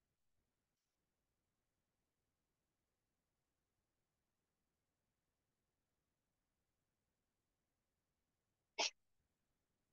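A single sharp sneeze bursts out near the end of an otherwise almost silent stretch.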